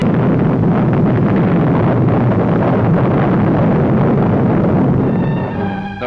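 Rocket launch carrying a chimpanzee into space: a loud, continuous roaring rumble that holds steady for several seconds, then eases slightly at the end as faint tonal whines rise over it.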